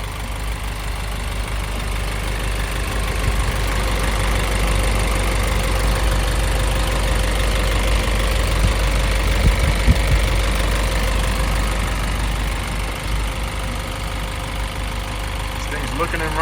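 A 2006 Isuzu NPR box truck's 5.2-liter turbo diesel engine idles steadily, a continuous low rumble with a faint knocking character and no change in pace throughout.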